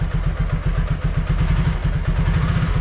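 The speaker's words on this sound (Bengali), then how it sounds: "বাইকটা একটু কোল্ড স্টার্ট দিই।" A motorcycle engine cold start settling into a steady, loud idle near the microphone, its rapid, even low thumping pulses running throughout with no talking.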